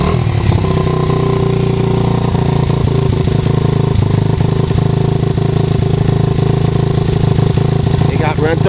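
A Honda XR80 dirt bike engine runs steadily and loud, close by, with a constant rattling drone that holds nearly unchanged throughout.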